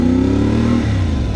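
A CFMOTO 450MT motorcycle engine revs up loudly and close, the pitch rising and shifting as it accelerates.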